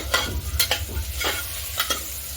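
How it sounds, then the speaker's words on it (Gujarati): Vegetables for masala rice being stirred in a hot pressure cooker, with several scraping strokes of a spoon over a soft sizzle, close and fairly loud, no talking. "હવે આપણે બધા જ વેજીટેબલને એકદમ સરસ રીતે મિક્સ કરી લેવાના છે"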